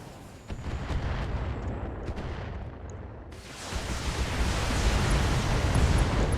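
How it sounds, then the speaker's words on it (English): Mortar fire erupting in the BattleTech video game, a sustained rumbling barrage of heavy booms that surges louder about halfway through and keeps roaring to the end with no talk. "That's a mortar."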